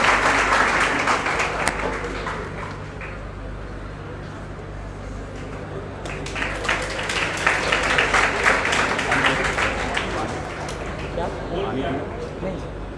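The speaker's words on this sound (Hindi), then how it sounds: "तालियां बजती रहनी चाहिए," An audience at a NEET 2025 results celebration at a coaching institute keeps up sustained applause, with people talking over the clapping as it swells again midway.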